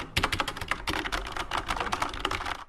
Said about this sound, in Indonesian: akan mencoba suara yang dihasilkan keyboard ini